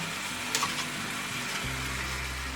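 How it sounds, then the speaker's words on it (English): Rotel and rinsed, drained black beans stirred together in a hot pan, a steady low sizzle with a few soft scraping knocks of the spoon near the start. "And I'm gonna stir that all together."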